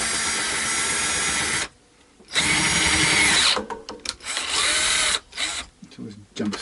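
A power drill hand-reams an 8mm hole in a wooden guitar body during a travel guitar build, with loud sustained whirring bursts broken by short pauses and a person talking between runs.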